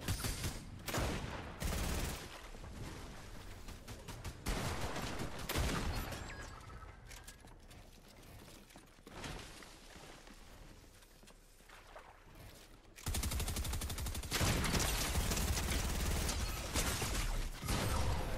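Bursts of gunfire in a battle royale shooter, loud and dense, with a quieter stretch in the middle before heavy firing resumes near the end; no talk over it.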